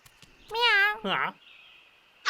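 A cartoon cat gives two distinct meows, the first long and wavering and the second shorter, close and clear over faint background hum, ending with a brief burst of sound.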